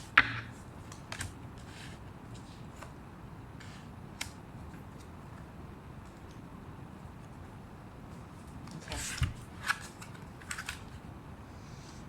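A tarot deck is cut and shuffled by hand, producing soft, scattered card flicks and riffles at an unhurried pace, with a small cluster of quick card sounds near the end over a quiet room.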